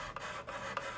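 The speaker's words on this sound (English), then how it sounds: "you take a sanding stick and just go across the" Sanding stick rubbed across putty on a plastic scale model seam, giving a soft, steady close-up rasp with a few brief stroke accents, no voices.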